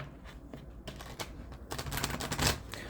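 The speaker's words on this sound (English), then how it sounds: "One more shuffle." Tarot cards shuffled by hand during a reading, a quiet, close riffling and tapping that grows busier and louder toward the end.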